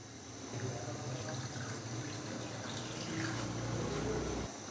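A glass of water pours steadily into a pot of fried potatoes and chicken for white biryani, a soft continuous splashing trickle heard close and fairly faint.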